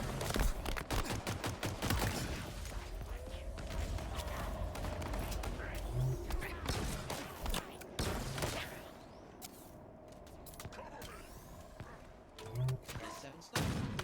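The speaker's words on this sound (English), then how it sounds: "And the Phantom obviously shoots at you" Phantom dropship in the Halo Forge video game firing at the player, a rapid barrage of loud gunfire bursts that continues through most of the stretch, with a voice talking over the shooting.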